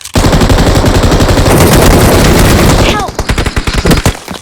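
Rapid automatic gunfire from a shooter video game, a dense loud burst of fast rounds for about three seconds, followed by a few separate louder shots.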